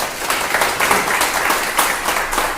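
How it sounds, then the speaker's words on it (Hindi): An audience at a business meeting breaks into loud, continuous clapping, a thick, even wash of many hands with no voices over it. "एक बार जोरदार तालियां आप लोगों के लिए।"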